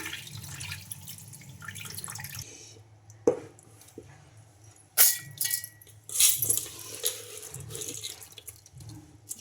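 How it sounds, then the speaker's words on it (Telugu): Soaking water tipped out of a vessel of rice left to soak eight hours, heard as intermittent close splashes and trickles with clanks of the container between pours. "మనం వాటర్ వంపేసి మిక్సీకి అయితే గ్రైండ్ చేసుకుందాం"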